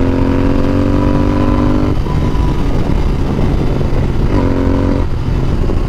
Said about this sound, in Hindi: And I am in love with this inline engine symphony.